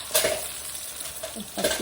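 Egg frying in a pan with a constant bright sizzle, with a few utensil scrapes and clinks close by.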